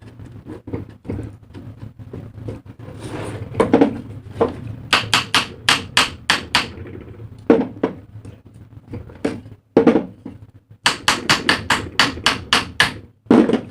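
Hammer taps on an exhaust fan housing to loosen the front plate, a run of sharp, close knocks in uneven bursts, some single and some in quick clusters.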